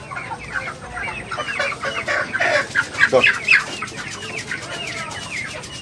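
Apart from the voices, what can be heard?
chickens clucking at a market stall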